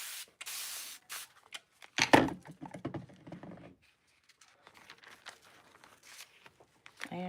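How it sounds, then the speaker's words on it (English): A spray bottle spritzes water onto thick tissue paper laid over a 12-inch ceramic tile. A short hiss comes at the start, then a louder burst of sprays with papery crinkling, followed by quieter handling and scattered soft taps. "I'm going to spray both sides."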